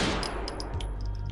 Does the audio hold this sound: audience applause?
no